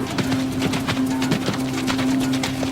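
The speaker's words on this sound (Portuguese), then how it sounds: "E se fosse a cavalo, usaria um tipo especial de cavalo." Hooves of medieval travelling horses clip-clop in a steady, fairly loud rhythm of overlapping strikes, with a faint low hum beneath and no voices.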